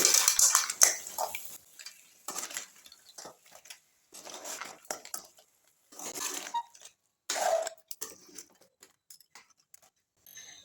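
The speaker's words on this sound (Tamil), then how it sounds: "இப்போ இந்த நண்டை அப்படியே ஒரு முறை நல்லா கிளறி விட்டுக்கோங்க" Crab being stirred with masala in a cooking pan, a spatula scraping and clinking against metal in short separated bursts with quiet gaps between, fairly close and alone.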